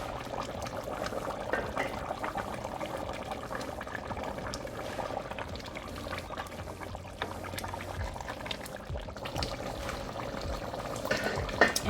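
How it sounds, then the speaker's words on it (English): Potatoes simmer in a stew pot, a steady low bubbling and gentle liquid churn that runs continuously at moderate volume, with no voices present. "So we're gonna let them simmer for 10 minutes."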